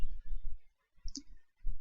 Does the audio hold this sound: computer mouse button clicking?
yes